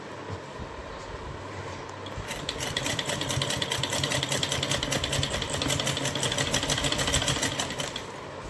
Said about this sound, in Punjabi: ਆਪਾਂ ਨਾਲ ਦੀ ਨਾਲ ਪੱਕੀ ਸਿਲਾਈ ਲਗਾ ਰਹੇ ਹਾਂ ਜੀ